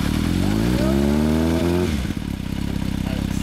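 A 1994 Kawasaki GPZ900R Ninja (A10) fitted with a Beet Nassert exhaust revs up loudly and close, pitch climbing for about two seconds before falling back to a lumpy, throbbing idle.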